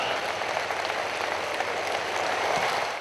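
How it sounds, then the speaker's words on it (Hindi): A large audience gives a standing ovation with dense, continuous clapping at steady loudness throughout, at a prime minister's event. "स्टैंडिंग ओवेशन, भरपूर तालियां"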